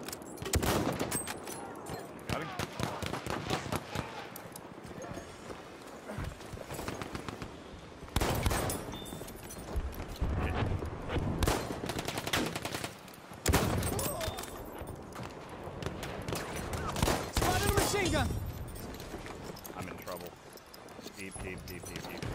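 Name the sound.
machine gun fire in a video game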